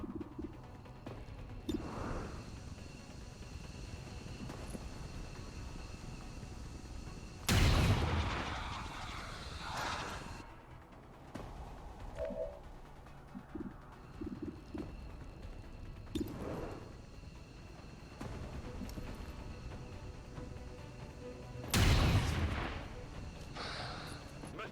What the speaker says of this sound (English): now the snipers. Should be able to take good clean shots